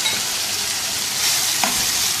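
Marinated beef mince fries in oil in a karahi over medium heat, a dense, loud, continuous sizzle with a faint scrape of stirring partway through.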